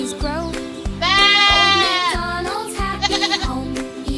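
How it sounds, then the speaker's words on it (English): A goat bleats in a farm nursery-song setting, with a long wavering cry in the middle and shorter calls after it, all heard over a steady rhythmic musical backing beat. "The goat says, "Baa.""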